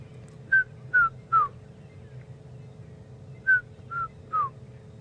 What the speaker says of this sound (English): she had a red-chested cuckoo calling